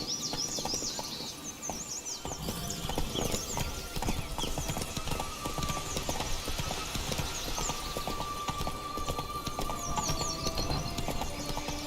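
Roach, the horse in The Witcher video game, trots with a steady, close clip-clop of hooves throughout, accompanied by faint bird chirps in the background and no talking.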